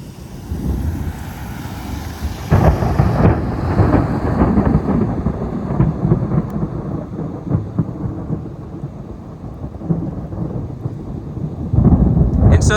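Thunder rumbles loud and close through an unforecast lightning storm in Houston, Texas, a long rolling roar with sharper cracks near the start and end, over steady rain and wind noise.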